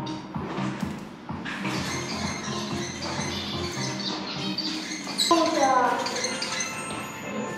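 Amadina finches and canaries chirp in a busy aviary with a butterfly garden, their tweets and twitters fairly close and continuous, with a brighter burst of calls near the end and people talking quietly alongside.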